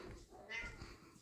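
A pet cat meows once or twice in a home kitchen while chicken, bacon and broccoli Alfredo is being cooked, a short, fairly close cry over low kitchen background noise.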